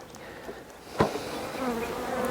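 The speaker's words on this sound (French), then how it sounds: "il y a des nids de guêpes là" Wasps buzz near a beehive, a continuous close insect drone with shifting pitch, broken by a sharp knock around the middle and rising slightly toward the end, with no talking.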